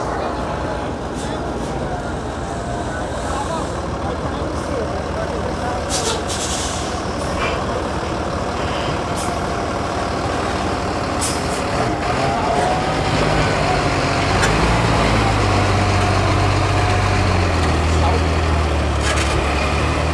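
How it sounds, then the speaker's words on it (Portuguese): A semi-trailer truck rolls onto a ferry crossing in Brazil, its engine rumbling steadily and growing louder with a deep low drone near the end, amid a busy loading deck with vehicle noise and people talking. "E ali atrás vai entrar mais uma carreta"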